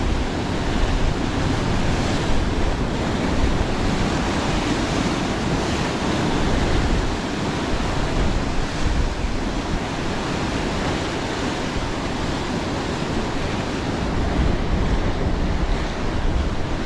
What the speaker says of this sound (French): j'ai un vent qui arrive en fait